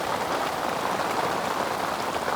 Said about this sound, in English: the rain's coming in. It's coming through the mozzie mesh.